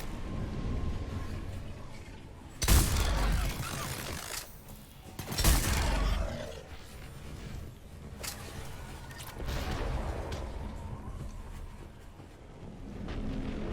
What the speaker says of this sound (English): Someone's shooting at me, but I don't really care.